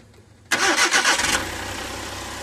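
After an overhaul, a Suzuki DA64W turbo engine that had run out of oil cranks and fires up nearby. It gives a short rev, then settles into a steady idle with no talking.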